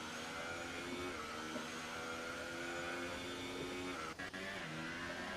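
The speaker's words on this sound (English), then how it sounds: "And then McLaren of Harry goes out and leaves." Race car engines whine and rev in the F1 2018 video game as cars leave the pits at Monaco during qualifying, a steady layered droning of several engines with a brief break near the end.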